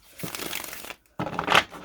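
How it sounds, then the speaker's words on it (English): Tarot cards are shuffled up close in two bursts of dense riffling and rustling, loud and crisp, separated by a short pause, with no talking. "let us shuffle and pull your reading"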